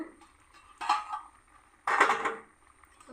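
Metal lid lifted off a cooking pot of simmering kochu loti (taro stolons) for a shrimp curry, giving two short clattering scrapes about a second apart, close and moderately loud in a quiet kitchen.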